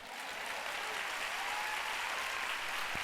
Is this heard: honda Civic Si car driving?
no